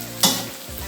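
Tutug oncom being stirred as it fries in oil in a pan gives a sudden close scrape and rustle followed by a steady, faint sizzle.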